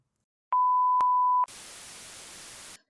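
Electronic answering machine beep: two short tones then a steady held tone, followed by a burst of hiss as the recording starts.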